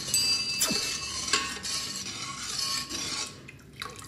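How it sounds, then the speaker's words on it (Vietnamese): Pumpkin agar jelly is stirred in a cooking pot, giving faint, intermittent scraping and clinking of a utensil against the metal pot, with a few brief sharp knocks among steady low kitchen noise. "Bây giờ mình nấu cái nồi rau câu bí đỏ này nha các bạn, cho nó đặt lại nha. Bạn nấu bạn khuấy đều như thế này nè."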